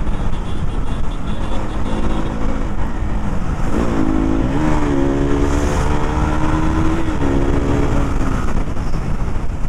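A Yamaha R15 V3 or KTM RC 200 motorcycle in a street race, running hot and low on engine oil, drones loudly under heavy wind rush, its engine pitch climbing and dipping as it revs midway.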